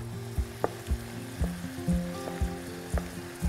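Diced ham frying in a very hot pan, a steady crackling sizzle broken by about a dozen regular clacking stirs or scrapes of a utensil, close up and without talking.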